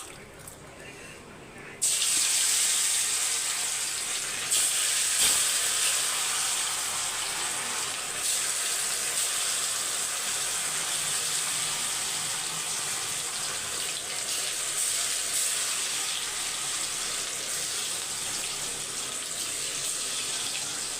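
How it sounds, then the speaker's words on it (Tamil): Chicken 65 pieces frying in hot oil, a steady loud bubbling sizzle that kicks in abruptly after a quiet moment and hisses on without a break. "சிக்கன் சிக்ஸ்டி ஃபைவ்க்கு எண்ணெய் ஊற்றி வச்சுருக்கேன் பொரிச்சிடலாம்"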